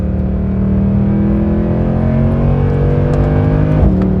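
A Mercedes C63 AMG Black Series engine holding a loud, steady high-rpm drone, close and continuous, with a brief shift in pitch near the end.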